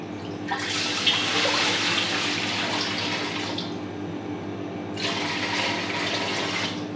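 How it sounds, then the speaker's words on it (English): Water poured from a container into a bowl of flour while mixing thin and crisp pizza dough, a steady splashing pour lasting several seconds, then a brief pause before a second pour, close and without talk. "I like to put some of the water in, not all of it"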